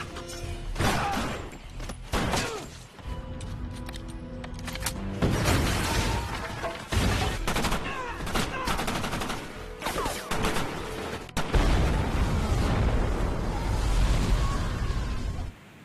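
Dense, continuous movie battle noise from the action film Shooter: rapid gunfire bursts, heavy booms and crashes layered without pause, loud and close throughout.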